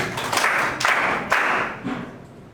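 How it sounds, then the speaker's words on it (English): A math class clapping for a student in a few rhythmic group bursts, loud and close, fading toward the end. "Clap hand to him."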